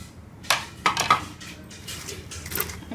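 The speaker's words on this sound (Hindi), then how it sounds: "ये बेसन डाल के इसको मैं मिक्स कर लूँगी।" A spoon clinks and scrapes against a bowl as spices and gram flour are stirred into spinach pakora batter, a few sharp knocks followed by softer, uneven mixing scrapes.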